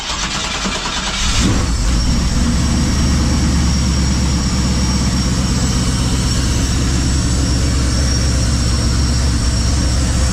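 A 1976 Chevy square body truck's engine cranks briefly, then catches and settles into a loud, rumbling idle that holds steady and close for the rest of the clip.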